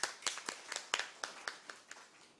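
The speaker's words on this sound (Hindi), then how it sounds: "जोरदार तालियां।" A small audience at a tribal poets' meet claps in a sparse, uneven run of distinct hand claps, close but fairly quiet, each clap standing out separately over about two seconds.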